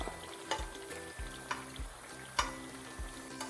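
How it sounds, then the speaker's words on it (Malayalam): Unniyappam, made from ground rice batter, frying in hot oil in a pan over a medium gas flame as the pieces are turned, with a steady close sizzle and a few soft clicks and taps. "ഇതുപോലെ ഉണ്ണിയപ്പം നമുക്ക് തിരിച്ച് മറിച്ചിട്ട് മൂപ്പിച്ചെടുക്കാം"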